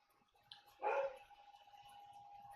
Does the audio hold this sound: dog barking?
yes